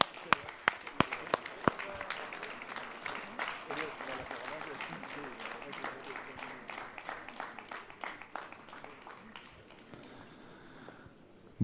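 An audience at a BMW X3 car presentation breaks into applause, beginning with a few sharp separate claps and building into steady, fairly faint crowd clapping that slowly fades out.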